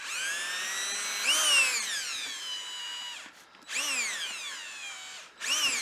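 Cordless power drill whirring at low speed while it buffs a finish on a 2000 Jeep Grand Cherokee part, running in three steady bursts with pitch sweeps and short pauses between them, close and fairly loud.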